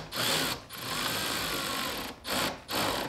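A power tool buzzes in several loud, close bursts separated by short pauses while tightening nuts during a manual transmission swap on a Toyota Mark II JZX110.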